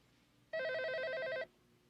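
A telephone bell rings once in a single steady burst of about a second, loud and close, with a faint room hush before and after and no talk over it.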